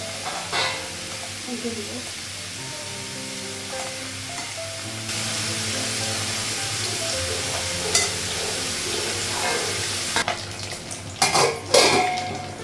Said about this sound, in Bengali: শাক ভাজাটা বসে নিচ্ছি আর একটু মাছটা ভাজছি।